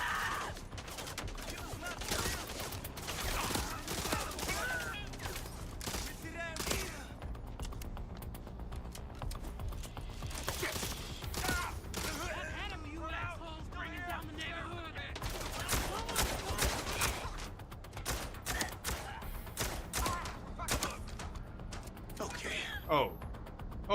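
Rapid, dense video game gunfire in a shooting gallery stretch of a shooter, with weapons that have little recoil; bursts crackle almost continuously for the whole stretch while someone talks over them.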